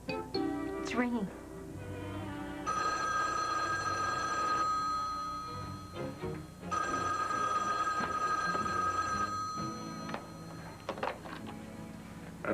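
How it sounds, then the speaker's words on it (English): A landline telephone bell rings in two long, steady bursts with a pause between them, heard indoors under soft talk and room noise. "It's ringing."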